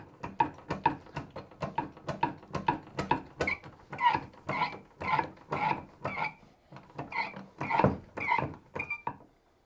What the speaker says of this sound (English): It's totally normal for the hydraulics to make funny sounds like this.